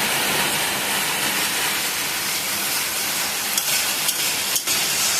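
Spiced masala paste with cumin frying and stirred in hot oil for a Bengali hilsa fish curry, a steady close broadband sizzle with a few sharp scrapes of the spoon near the end.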